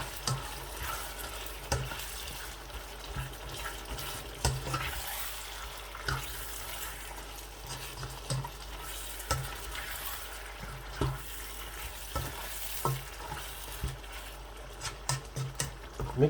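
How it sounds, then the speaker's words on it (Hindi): Biryani ingredients mixed with yogurt in a pot, giving soft wet stirring and scraping sounds with a faint sizzle. Repeated clinks of a utensil against the pot run steadily through it, with no voices. "अब इन तमाम चीज़ों को अच्छी तरह से मैं मिक्स कर लूँगा"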